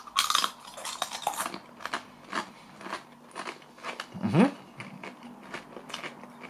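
Crunchy organic kettle chips flavoured with wild garlic being bitten and chewed, a series of short crisp crunches in an uneven rhythm, close and fairly quiet, no talk.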